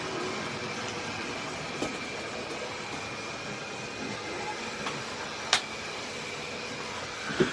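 A model train pulling coal wagons runs slowly along the track with a steady, faint mechanical whirr, soft rail clicks and a couple of sharp ticks, with no voices.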